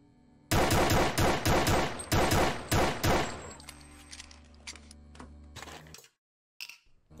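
Rapid bursts of loud, close gunfire in the Doom-engine horror game Dismantled, a dense fusillade of shots for about three seconds that trails off into scattered reports and a brief silence.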